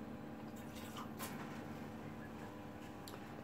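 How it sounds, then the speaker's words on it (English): A small splash of water is dribbled into crumbly biscuit dough for Halloween treats, giving soft, close dripping and trickling sounds against a steady background hiss, with no talking. "get yourself a little bit of water, tiniest little bit, and add a little bit of water in"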